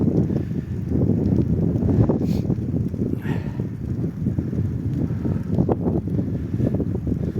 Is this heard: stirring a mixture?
no